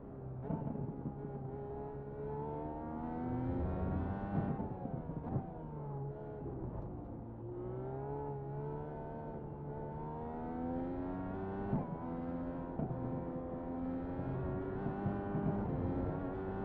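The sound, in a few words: Indy car engine racing in a video game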